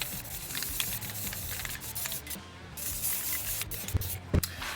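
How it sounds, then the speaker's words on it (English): Gold and red spray paint hisses in short bursts onto 3D-printed parts of an Iron Man suit, close by over faint background noise. "applying the gold and red spray paints to all the correct parts"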